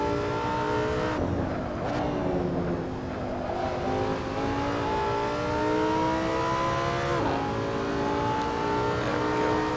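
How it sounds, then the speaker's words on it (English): Lamborghini Sesto Elemento engine in Assetto Corsa, revving hard with rising harmonic whine through repeated gear shifts, the pitch dropping at each change before climbing again, loud and continuous. "If you want me to rev it up and blow it up"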